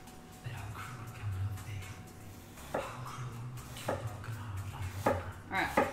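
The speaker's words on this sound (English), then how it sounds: "So we're chopping an apple." A knife chops through an apple on a cutting board, with a few sharp, close strikes spaced a second or so apart over a low background murmur.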